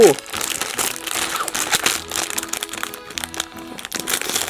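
Crinkly plastic wrapper of a pink Oreo BLACKPINK card pack being torn open and handled, with close, irregular crackling and crumpling while someone talks over it.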